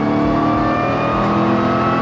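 A supercharged, nitrous-fed Ford Crown Victoria engine revs hard in first gear on a dyno, a loud, sustained, raw roar with dense harmonic growl held steady throughout the short burst.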